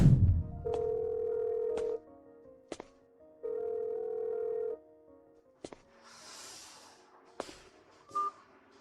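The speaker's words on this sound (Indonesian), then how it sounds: "Kenapa nomor telepon presiden sudah jadi nomor kosong?" Phone line tones on a call to a disconnected number: two long steady beeps separated by pauses, then clicks and brief noise bursts, with no voices.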